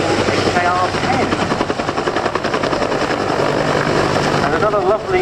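An HKR-10 helicopter powered by a Bristol Siddeley Gnome turboshaft engine drones loudly at an RAF air show, a sustained turbine whine with rotor thrum heard alongside talk.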